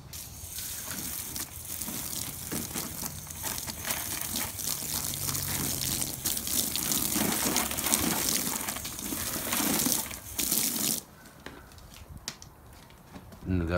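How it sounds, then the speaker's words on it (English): Water is poured onto freshly planted potatoes and peas in a garden bed, a continuous splashing gush that builds and then drops away abruptly near the end. "We'll water it in just a little bit."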